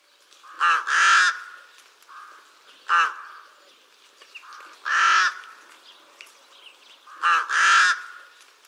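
A rook calls in harsh, hoarse caws, some paired and some single, repeating every two seconds or so, clear and fairly close with no other sound.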